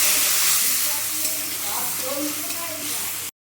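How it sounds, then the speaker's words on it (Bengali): Tomato paste frying and being stirred in a pan for paneer posto, a steady close sizzle and hiss with faint stirring, under quiet speech, then ending abruptly. "এবারে আমি দিয়ে দেবো টমেটো বাটা টমেটোটাকে একটু ভালো করে নাড়াচাড়া করে নেবো"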